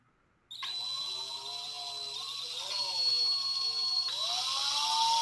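A drill bit boring into metal gives a steady, loud high-pitched whine with a shrill squeal that climbs in pitch. It starts abruptly after a short silence and keeps going without a break.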